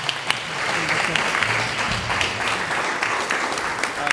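An audience at a city council at-large candidate debate breaks into steady applause after a candidate's introduction, a sustained wash of clapping from the crowd.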